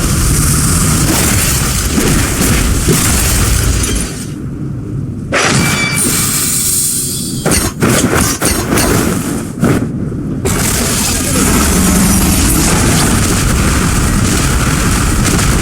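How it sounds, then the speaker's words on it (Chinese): Explosions from a boss's meteor fire-fall skill in the video game Where Winds Meet: loud, dense booming bursts and rumbling blasts over a continuous roar, with brief sharp pauses between volleys. "流星坠火这个特效也很好看，这算是技能最多的一个 BOSS"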